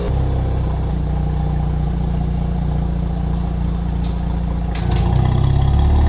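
A B9 Audi S4 with a newly installed downpipe exhaust idles steadily up close, a continuous low engine drone with a faint clatter, swelling slightly louder near the end.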